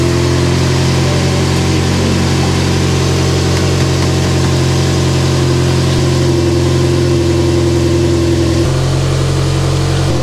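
A car engine idles after oil pressure comes back following a fault with the oil pressure sensor, a loud, steady mechanical hum with constant vibration that shifts slightly in tone near the end, with no voices.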